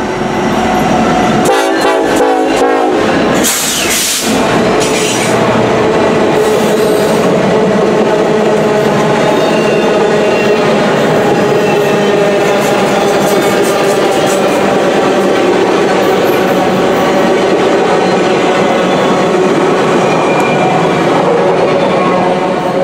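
A loud Union Pacific executive passenger train led by locomotive UP 1943 rumbles past up close with steady rolling noise and a brief horn-like blast early on, the roar holding strong throughout.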